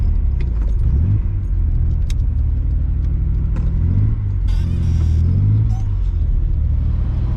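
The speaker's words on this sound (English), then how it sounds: "This car's so much fun to drive." A car is driven along a road on a sunny day. Its engine and tyres make a close, steady low rumble throughout, with slight swells as the car speeds up.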